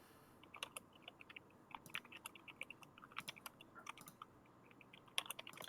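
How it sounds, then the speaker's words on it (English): Rapid bursts of clicking keys on a computer keyboard, close and fairly quiet, in uneven clusters with short pauses. "I hear just rapid typing"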